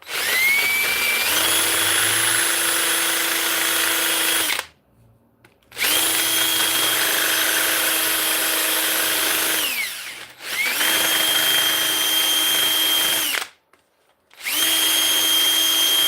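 A drill spins a homemade tube sander as it grinds a bevel into a wooden opening, giving a loud, steady whine in three long runs separated by brief pauses, with no talking.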